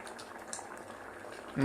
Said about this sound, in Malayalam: നാളികേരം ജീരകം കൂടി അരച്ചത് ഒഴിച്ചിട്ട് നല്ലപോലെ തിളച്ച് കഴിഞ്ഞു.